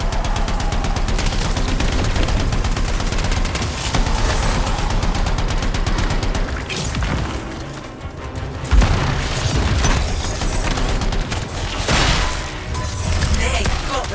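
Continuous heavy gunfire and booming blasts from the sci-fi shooter game Anthem, dense and loud throughout, with bursts of automatic fire and explosions, while voices talk over the combat.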